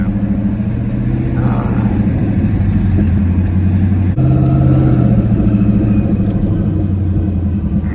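A 1500-wheel-horsepower Ford Mustang cruises through Houston traffic, its engine giving a loud, steady low drone and rumble from inside the car with no breaks.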